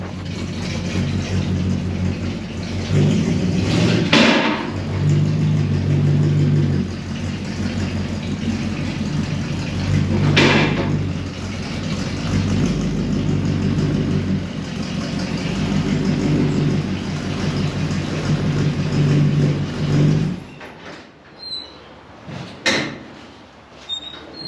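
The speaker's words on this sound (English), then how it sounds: "Well, at least I successfully managed to drive up the ramp today" A 1940 Ford shop truck engine runs at a steady, close, loud drone while driving up a ramp, holding for about twenty seconds before cutting off into a few light knocks.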